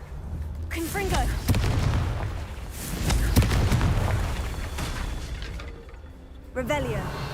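Confringo blasting spell explosions in Hogwarts Legacy, several heavy booms spread across the span, loud and close, under a voice casting spells amid game sound.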